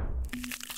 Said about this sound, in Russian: она хрустит чипсами